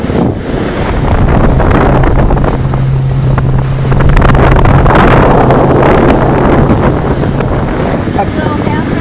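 Boat cruising along the Kangaroo Island north coast beneath cliffs, heavy wind buffeting the microphone over engine drone and splashing water, loud and continuous throughout.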